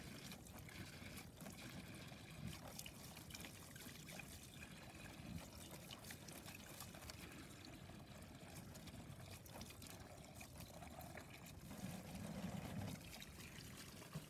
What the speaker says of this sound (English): right now we're having to fill up these water jugs for the toilet.